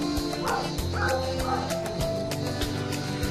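A Great Dane gives deep, repeated barks and yips at a steady pace, close by, over a constant background hum.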